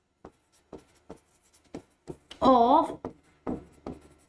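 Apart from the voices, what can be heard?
writing notes by hand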